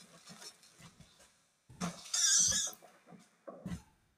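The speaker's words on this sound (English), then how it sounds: "Pig." Video game pig oinks and grunts in short, fairly quiet snorts, with a louder squeal midway and a few more grunts after, heard without talk.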